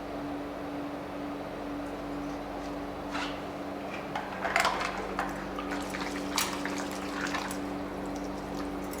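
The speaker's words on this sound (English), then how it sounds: "just take off the hose so the water can run free out of the machine" Water streaming freely out of an industrial pressure washer hose with the lance removed, a steady rushing flow over a constant machine hum, with a few louder splashy bursts.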